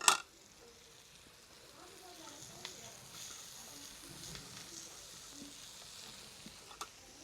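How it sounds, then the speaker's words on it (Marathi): Finely chopped fenugreek leaves hit hot oil and spices in a pan, giving a sharp burst of sizzle at the start that settles into a steady, quiet frying hiss with faint stirring scrapes and a clink near the end. "आता बारीक चिरून घेतलेली मेथी टाकूया"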